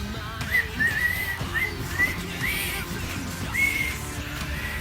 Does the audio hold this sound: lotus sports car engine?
no